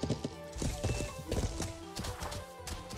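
Horse hooves clop irregularly through a Life is Feudal battle, mixed with thuds and a brief whinny-like tone. The sound is faint and slightly muffled, with a busy background.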